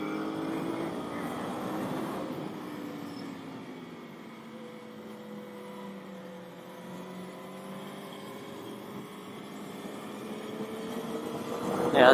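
A 2013 Aprilia Tuono V4 motorcycle engine drones steadily at a track day as the throttle rolls on smoothly, its tone sliding down and then climbing again over twelve seconds, with wind noise throughout and a louder swell at the end.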